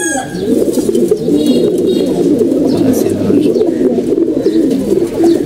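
Many pigeons coo together close by, a loud, dense, continuous low warbling chorus filling the whole stretch with no pauses.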